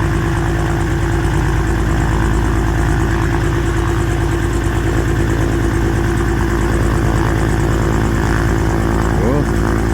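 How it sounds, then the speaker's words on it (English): A Piper Comanche light aircraft piston engine idling on the ground before taxi, running cold after a cylinder install and 13 years out of service, a loud, steady, throbbing drone that holds close and even throughout. "I don't know how long he's going to let it warm up before he taxis"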